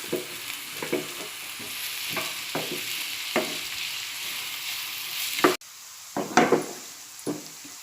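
Onions frying in oil in a pan until soft, a steady close sizzle broken by repeated scraping stirs with a utensil, and one short sharp clatter partway through.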